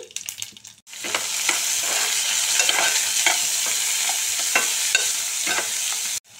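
Sliced onions and green chillies hit hot oil in a pan for a small bitter gourd dish, erupting into a loud, steady sizzle with scraping stirs throughout that stops abruptly at the end, no one speaking.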